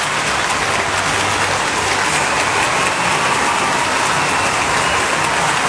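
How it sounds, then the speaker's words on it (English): Big crowd applauding a player at an AFL football match between Hawthorn and Geelong, a dense, steady roar of clapping and cheering that fills the whole stretch at high volume without letting up. "Tom Hawkins gets the round of applause that he richly deserves"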